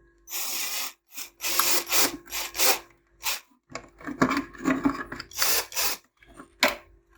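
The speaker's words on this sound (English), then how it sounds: "we're going to just drill it through the cross there" Bursts of grinding, rasping drilling through hard plastic in a BMW E39 ashtray, several short runs separated by pauses, close and fairly loud with no talking.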